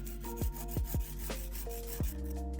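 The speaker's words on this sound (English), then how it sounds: "I'm gonna take a 150 grit nail file and kind of just file it a bit" A 150 grit nail file works a press-on nail in short, faint rasping strokes, several quick scrapes spaced unevenly, with soft handling noises between them.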